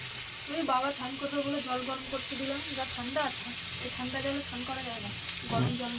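Cabbage curry cooking in a pan, a steady sizzling hiss with stirring scrapes, partly under a person talking.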